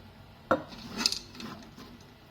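Soaked fava beans go into a pressure cooker pot with a sharp knock followed by a soft rattle and scrape of metal, faint and close.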